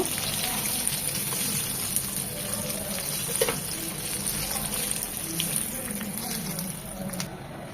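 Naga-style drumsticks fry in hot oil, giving a steady, close sizzle that continues without a break, with a few faint knocks and scrapes from the pan.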